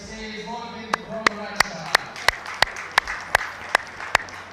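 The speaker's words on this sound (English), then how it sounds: "big round of applause from the room to both players" Sparse, evenly spaced hand claps ring out crisply in a room at the Asian Grand Prix main-table tournament, about three per second, following a brief voice at the start.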